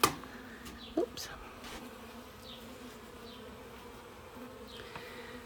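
Honeybees buzz around the entrance of a two-box garden hive, a soft, steady hum with a few louder passes as single bees fly close by the microphone. The sound is quiet and there is no talking.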